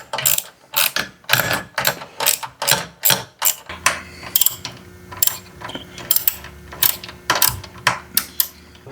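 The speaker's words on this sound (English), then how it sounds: "I'm going to get those 3 screws out." Screws are removed from a Craftsman 1/2 HP or 1/3 HP garage door opener, probably with a ratchet, giving a close, loud series of quick rhythmic clicking strokes with brief pauses.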